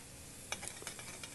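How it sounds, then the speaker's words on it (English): Spoon stirring prepared horseradish into milk in a pan on the stove, giving a few soft, faint scraping and clinking strokes over a quiet background. "So I take some of this prepared horseradish and stir that in our milk."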